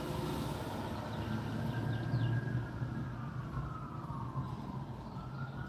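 Emergency siren wailing in a town street, a faint rising and falling tone over steady traffic rumble, distant and continuous.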